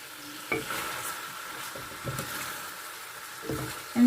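Tomatoes stirred in a cooking pot for chicken biryani, a low sizzle under a few soft scraping stirs and utensil knocks, close and without talk.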